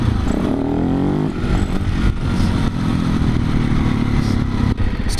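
A motorcycle engine revs hard with a rising whine through a clutch-up wheelie, loud and close, with clatter and wind roar sustained the whole way.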